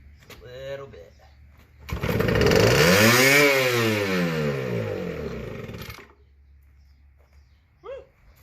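A McCulloch 170 engine-driven arc welder's small engine cranks, catches and runs loud and close for about four seconds with a rising, fast idle, then cuts off; people talk before and after.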